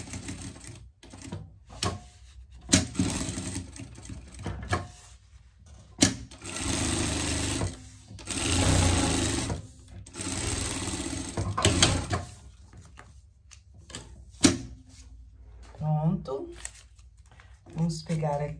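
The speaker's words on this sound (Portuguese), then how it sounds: "Quando você for costurar tecido impermeável, procura costurar com pezinho teflon" A sewing machine stitches waterproof raincoat fabric using a teflon presser foot, running in several bursts of rapid mechanical whirring separated by pauses, with talking in between.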